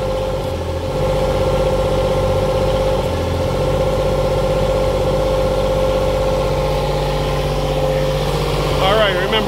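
A car engine runs steadily at a mid-pitched idle, close by and loud, while a technician sits at the wheel. A voice talks over it part of the time.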